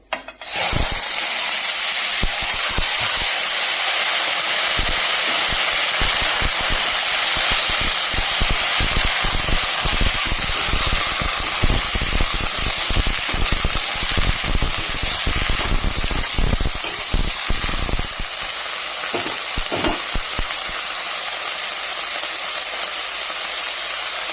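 Loud, continuous hissing sizzle of chopped vegetables for chorchori poured into hot oil with black cumin, with scraping and stirring clatter throughout and a slight drop in intensity near the end.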